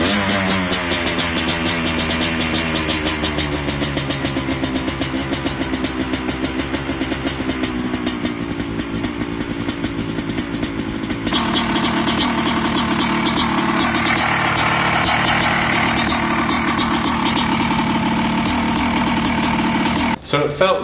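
A TM Racing EN250 Italian dirtbike's single-cylinder engine runs on choke after starting, settling into a loud, steady, close idle with a rapid even putter throughout and a slight shift in tone midway before cutting off at the end.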